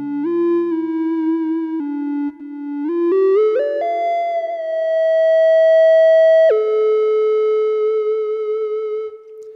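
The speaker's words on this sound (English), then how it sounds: "The sound is just a nice little triangle wave." A clean synthesized triangle-wave tone from a Teensy Audio Library multi-oscillator plays a simple melody of sustained notes, gliding upward through several steps, then settling on a lower held pitch.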